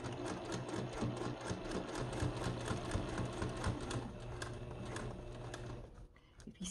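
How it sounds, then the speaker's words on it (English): A sewing machine stitches steadily across a fabric seam, a close, even rapid clatter that runs for about six seconds before stopping. "And we're gonna just stitch right across here."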